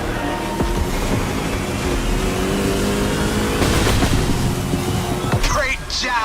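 A Kawasaki H2 motorcycle engine in The Crew Motorfest runs close and loud with a steady, rising roar, and a brief higher whine near the end.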